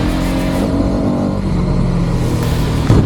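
A Hero Karizma XMR motorcycle pulls away under strong acceleration, its engine note loud and close with a steady, rising drone and a brief bump near the end.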